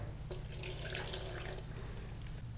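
Water is poured into a blender holding soaked dried vegetables, walnuts and apple cider vinegar for lyutenitsa, a close, steady splashing stream lasting over a second amid low background hum.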